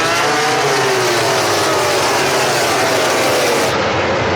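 Bikes roar past at full throttle during a MotoGP sprint race, a loud, continuous engine wail heard from trackside that fills the whole stretch.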